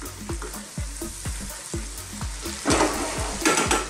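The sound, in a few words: stirring spices frying in a karahi for chicken balti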